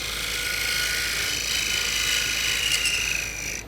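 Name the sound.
skew chisel cutting a dovetail on a wood lathe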